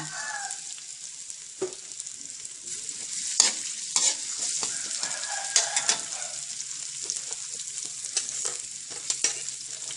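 Chili and pounded garlic stir-fry in hot oil, a bright continuous sizzle broken by scraping spatula strokes and clatter, close and loud.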